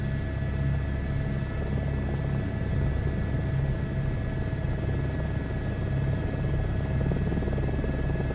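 A helicopter flies in a flight simulator game, its engine and rotor making a steady, even drone with a constant whine layered over the low rumble, uninterrupted and without talk.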